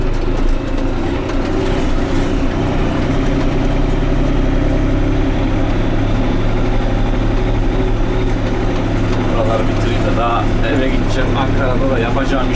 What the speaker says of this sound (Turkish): Aşağı yukarı 12 saattir traktörün üstündeyim.